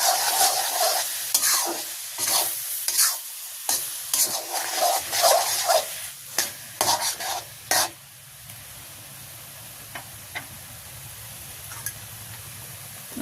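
Rice flour being stirred into an ash gourd curry in a pan, a village-style Bengali dish with a fish head: a spoon scrapes and clatters in bursts over a steady sizzle, then the stirring stops and a soft frying hiss carries on alone.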